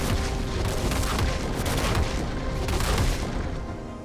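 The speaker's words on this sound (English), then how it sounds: "Fire at Will increases the ult's rate of fire" Cannon barrage from a pirate champion's global ultimate in the League of Legends video game, a dense continuous rumble of booming volleys and explosions that stays loud throughout and fades slightly at the end.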